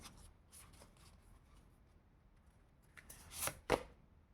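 Tarot cards are shuffled and drawn: soft scattered riffling and slides, then a sharper burst of card flicks and a snap toward the end, close and fairly quiet.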